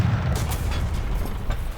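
A heavy tank cannon shot in the War Thunder video game booms deep and loud in the near field, followed by a low rumbling tail.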